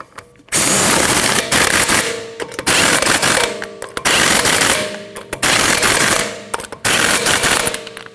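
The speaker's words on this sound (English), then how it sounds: "Now tighten your lug nuts in a star pattern." An impact wrench tightens the lug nuts on a wheel of a 2013-2019 Ford Escape in loud, close bursts of rapid hammering, five long rattling runs separated by short pauses.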